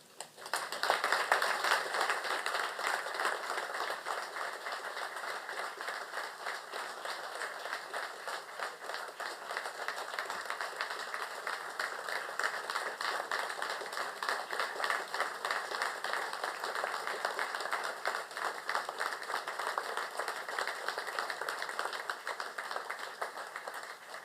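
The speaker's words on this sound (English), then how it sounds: "Well, I think from that applause, John, everyone certainly wants to thank you" Sustained audience applause at a 400th commemorative ceremony of the first legislative assembly, following a speech: steady dense clapping from a large crowd, even and continuous for over twenty seconds with no talking.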